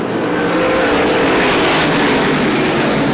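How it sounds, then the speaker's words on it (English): Race cars running side by side at Star Speedway roar loudly and continuously together, a dense, close engine wash with no pauses. "Steve Massey with a whole bunch of side-by-side racing going on behind him"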